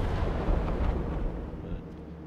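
Rapid-firing guns of a tier 4 American destroyer, the USS Clemson, in the naval game World of Warships: dense, booming low rumble of shots and blasts running steadily throughout, loud and close.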